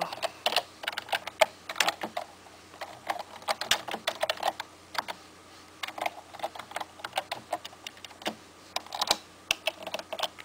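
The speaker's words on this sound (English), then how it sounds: "it's hard to type with one hand" Irregular bursts of computer keyboard keystrokes typed with one hand, close and crisp, clustered clicks separated by short pauses throughout.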